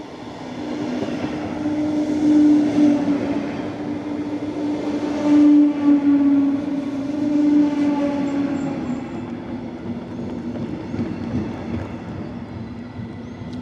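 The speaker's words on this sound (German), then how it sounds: "Ein schöner, großer Regionalexpress Doppeldecker." A large double-decker regional express train rolls in on the way toward Den Haag, a loud continuous rumble with a steady drone and metallic whine swelling and easing as the carriages pass close by.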